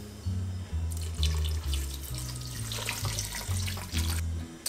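Red wine and white chicken stock are poured into a pot for a Hachis Parmentier, giving a continuous close splashing gush of liquid with gurgling pulses over a few seconds, with no talking.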